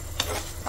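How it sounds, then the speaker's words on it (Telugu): A quick, close scrape of a spoon stirring onions in a hot pan for mutton curry, with a light sizzle underneath. "మంచిగా మొత్తం ఉల్లిపాయలు కలిసేటట్టు మంచి కలపాలి."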